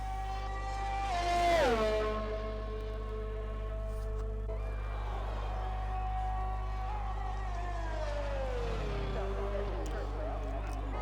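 A race car engine in a sim racing video game rises in pitch, then drops as it upshifts into fourth, with a steady rumble underneath and a commentator talking over it.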